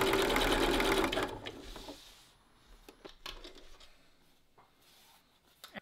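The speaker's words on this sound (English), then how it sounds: "all I'm going to do is put my foot back down and I'm going to sew until I join up" A sewing machine stitches a rolled hem on a circle skirt with a rolled hem foot, running loud and steady for about a second before stopping, followed by faint handling clicks and rustles.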